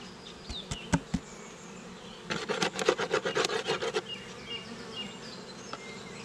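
Honeybees buzz at an open hive while a queen cage is handled, a faint steady hum broken by sharp scraping and rubbing clicks, with a dense burst of rasping in the middle.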